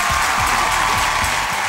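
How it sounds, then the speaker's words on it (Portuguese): An audience applauds a double bassist at a live fado performance, a steady broadband wash of clapping held at even loudness throughout, with no voices above it. "Uma salva de palmas para o Vasco."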